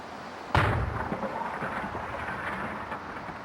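A sudden loud boom hits, then a rumbling, crackling roar that slowly trails off, like a single nearby explosion.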